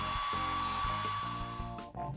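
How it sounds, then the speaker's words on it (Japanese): A hair dryer blows on hair wound tightly around wet wipes like curlers, a steady, close whirring roar with a faint high whine that wavers and dips briefly near the end. "今度はヘアドライヤーを使うのよ。"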